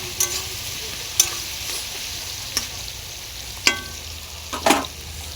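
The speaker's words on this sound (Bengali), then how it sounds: "আদা রসুন বাটাটা দিয়ে দিয়েছি। ভালো করে এটা কষে নিতে হবে।" Ginger garlic paste sautés in a pan with a quiet steady sizzle, broken by several sharp scraping clinks of a utensil stirring at irregular intervals.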